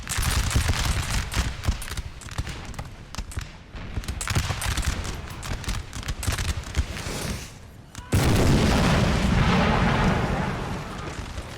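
Artillery firing cluster shot in the Napoleonic battle game Napoleon: Total War, a dense run of heavy booming blasts and rolling battlefield rumble, loud and continuous, swelling into a stronger roar partway through.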